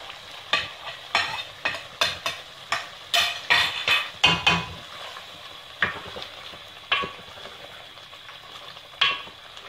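Coriander powder and chilli fry and are stirred into chicken gravy in a pan, steady sizzling under repeated scraping stirs of a spoon against the pot, close and fairly loud with no talk.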